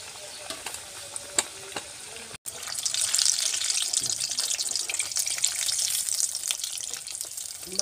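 Vada frying in hot oil over a wood-fired stove, a steady crackling sizzle that swells suddenly after a brief cut and then hisses loudly and continuously, close by, with no talking.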